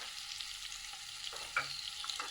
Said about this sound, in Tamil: இதில் நடுவில் கொஞ்சமாக சீரகம் போட்டுக்கிறேன்.